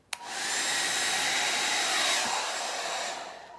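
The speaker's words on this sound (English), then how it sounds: "that has never happened before with my hair dryer blowing the paint so far, because my paint has never been that thin before" A hair dryer blows acrylic pouring paint: a click, then a steady, loud, close whooshing roar with a faint whine that holds for about three seconds before tapering off.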